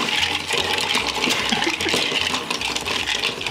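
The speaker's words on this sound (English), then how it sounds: "Give it a good stir." A tequila old fashioned being stirred in a mixing glass, with a steady, busy swirl of clinking ice and liquid close by that runs without a break throughout.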